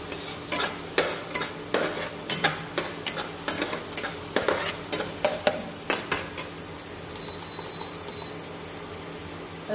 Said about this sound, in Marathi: किती छान असा परतला जातोय मसाला। छान असं साईडने तेल पण सुटतंय।